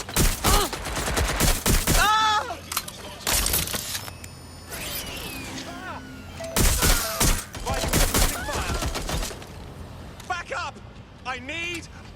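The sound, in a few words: gunfire in Watch Dogs Legion video game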